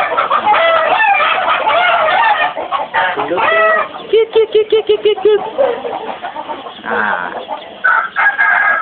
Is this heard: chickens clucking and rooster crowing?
yes